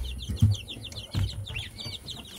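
Chicks cheeping in a brooder alongside goslings, a dense, continuous chorus of high peeps and chirps nearby, broken by a couple of low thumps and rustles.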